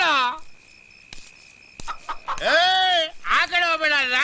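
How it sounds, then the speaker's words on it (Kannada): A native country chicken clucks and squawks in a few loud bursts amid a comedy scene, with people talking around it. "ಆ ಕಡೆ ಹೋಗ್ಬೇಡ, ನಾಟಿ ಕೋಳಿ ಐತೆ"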